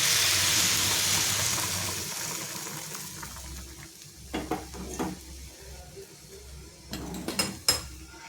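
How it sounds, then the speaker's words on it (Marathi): Hot milk poured into ghee-roasted moong dal in a pan for halwa, a soft hissing sizzle that fades and settles, followed by a few scattered stirring scrapes and clinks of a spoon against the pan. "अर्धा लिटर दूध आहे ते मी त्याच्यामध्ये टाकून घेते"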